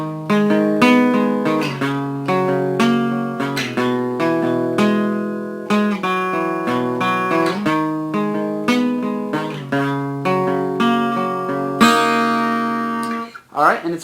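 Electric guitar plays the short interlude that follows the solo in a rock song, sustained ringing chords and picked notes in a steady, fairly loud phrase, alone with no voice over it.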